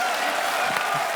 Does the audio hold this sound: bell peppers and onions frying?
no